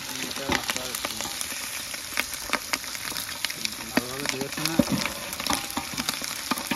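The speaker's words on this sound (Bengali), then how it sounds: "ডিম সুন্দরভাবে ভাজা হয়েছে" Egg frying hard in a pan for an egg and potato dal curry, with steady crackling sizzle and sharp spits and pops close up, plus a few clinks of the spatula against the pan.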